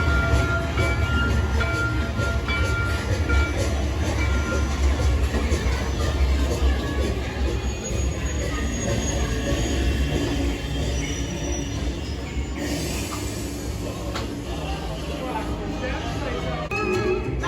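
On Mickey and Minnie's Runaway Railway ride, a loud, steady train-effect soundscape of rolling wheels and squealing rails runs throughout, with a broad hiss and occasional sharp accents layered beneath a character's voice.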